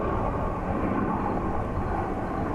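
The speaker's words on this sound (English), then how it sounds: "They're looking at a helicopter flying past, which you can probably hear." A helicopter flies past over a safari setting, a steady broad engine drone that stays fairly loud and continuous throughout, with no voices.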